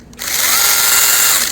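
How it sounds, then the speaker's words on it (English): A freshly oiled chainsaw, heard up close: after a brief quiet moment it starts and runs at a loud, steady, high-pitched whine that holds evenly to the end. "So let's go ahead and see how this chainsaw operates."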